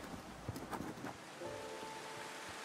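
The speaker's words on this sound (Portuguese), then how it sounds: "eu não quero ficar nessa chuva aqui" Steady rain falls across a city in the train-survival game The Final Station, a continuous hiss with some brief splashy transients and a faint tonal hum underneath, with no talking.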